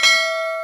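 A single bright notification bell chime rings out clearly and alone, with a sharp strike and a sustained ringing tone that decays slowly over less than a second.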